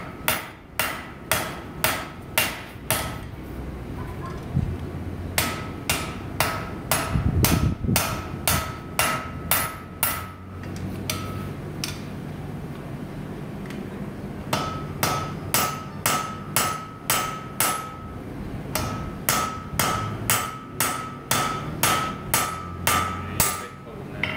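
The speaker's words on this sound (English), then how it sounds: "It's just a lot of just straight up hammering." Steel rail spike being upset by hand on an anvil: a long run of steady, loud hammer blows with ringing metallic strikes, briefly pausing midway before the rhythmic pounding resumes.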